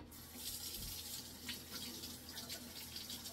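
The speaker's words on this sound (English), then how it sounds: "Rinse it out a little bit" Running tap water rinses narrow-neck water bottles and a straw, a steady broadband hiss and splash that swells and shifts as the stream hits the plastic, fairly quiet and continuous throughout with no talking.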